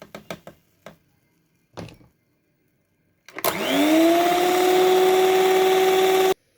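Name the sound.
beating cake batter while adding flour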